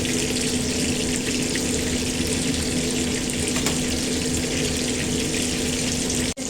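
Water pours into a hot pan for a spicy fish cream sauce, giving a steady loud hissing, bubbling wash that runs without a break for several seconds before cutting off abruptly.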